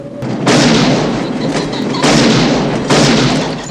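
Shotguns fired at pheasants in a Western film scene, three loud, booming blasts in quick succession, each followed by a long rumbling decay.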